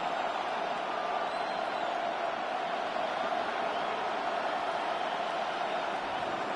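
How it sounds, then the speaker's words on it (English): A football stadium crowd roars steadily throughout, a broad sustained cheer heard at a distance from the stands in a game, with no clear individual voices standing out. "The crowd making their presence felt."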